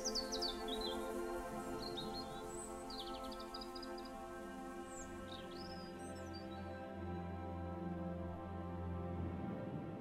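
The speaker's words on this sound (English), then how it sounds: "The seagulls are still flying overhead." Seagulls in the video game Hindsight give several short, high chirping cries over a steady bed of layered ambient music, the calls scattered through the first half and fading out later.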